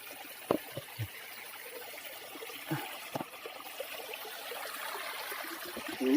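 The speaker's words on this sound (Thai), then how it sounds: "น้ำไหลลงไป" Water trickles and flows downhill on a forested mountain slope, a steady soft wash of running water broken by a few close drips and small splashes.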